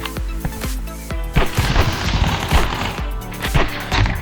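Rapid sharp gunshots from a revolver in the animal shooter game Animal Rivals, a string of loud punchy cracks and booms at irregular spacing over constant game noise, with no one speaking.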